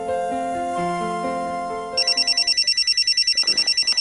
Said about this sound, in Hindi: ये देखो फोन आ गया।